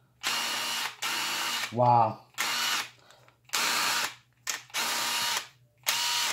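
A drill fitted with a Milwaukee right angle attachment runs in six short, loud bursts with brief gaps between them, whirring with a mechanical gear rattle. A voice speaks a single quick exclamation partway through.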